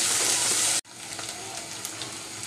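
Salted onions fry in a pan for a Bengali chiring fish curry with taro, starting as a loud, bright sizzle that cuts off abruptly and then continues as a quieter, softer crackle.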